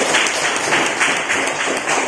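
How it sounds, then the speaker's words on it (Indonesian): Applause from a classroom audience for a presenting group, a steady wash of many hands clapping together, fairly close and even throughout. "berikan tepuk tangan kepada kelompok tersebut."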